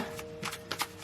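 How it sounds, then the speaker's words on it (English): Tarot cards are shuffled by hand in a few quick riffling bursts, close and crisp, over a faint background hum. "One more shuffle."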